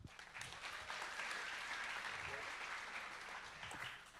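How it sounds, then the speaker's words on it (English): Audience applause at a hackathon closing ceremony, steady dense clapping from a large crowd that holds for several seconds, with a few voices faintly underneath. "Please give them a big round of applause."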